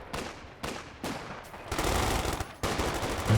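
A Vickers machine gun fires in the Company of Heroes 2 strategy game: several short, sharp bursts spaced apart, then a longer sustained stretch of rapid fire and another burst, loud and close, with no voices.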